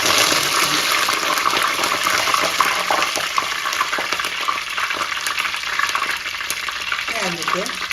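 Dried red chillies and curry leaves frying in hot oil for an Irumban Puli (bilimbi) pickle, a dense continuous crackling sizzle held close and loud throughout.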